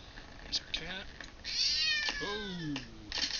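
A cat meows in a video game with a day-night cycle, a few short cries spread over a few seconds amid game sounds, with someone talking over them.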